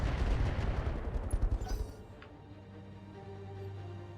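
Mech weapons fire in the Roguetech mod of BattleTech: a dense burst of booming, rattling shots for about two seconds, then a fading rumble and low mechanical hum.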